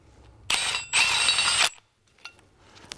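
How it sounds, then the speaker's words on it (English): A Milwaukee power tool runs in two loud bursts about half a second apart, snugging an engine mount bolt on a 2007-2014 Volvo XC90 P2 3.2L, then stops, leaving faint clicks in a quiet garage. "We're just going to use the old Milwaukee here today to snug it up nice and tight."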